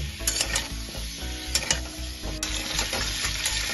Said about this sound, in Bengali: এবারে এটাকে আমি একটু ভাজা ভাজা করে নেব।